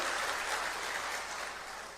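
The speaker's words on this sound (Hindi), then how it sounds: "इसके लिए एक बार जोरदार तालियां भगवंत मान जी के लिए आप लोग बजा दीजिए" Audience members at a political gathering in Punjab clap together in a dense, sustained burst of applause that fades slightly toward the end, with no voices over it.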